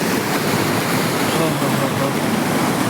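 River water rushes steadily at a sangam, the confluence of two rivers, as a continuous loud broadband roar close to the microphone with no distinct breaks.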